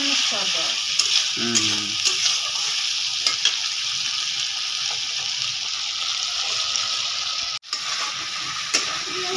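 Onions half-fried in a pan on a clay stove while chicken is cooked, a loud continuous sizzle with occasional stirring clatter and a brief pause, a voice speaking briefly near the start.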